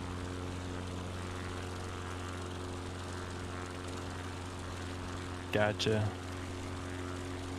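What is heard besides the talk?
aircraft engine in flight simulator video game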